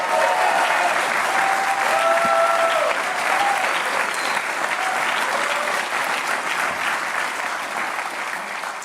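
Audience applause at a political rally at Mar-a-Lago, a dense, steady clapping that stays loud and close from start to finish, with a few faint voices underneath.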